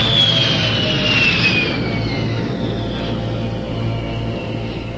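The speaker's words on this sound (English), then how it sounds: "Be advised you are now cleared for takeoff." Airplane engines roar steadily through a takeoff in a radio drama sound effect, a continuous loud drone with a high whine that slides downward early on, with no talking.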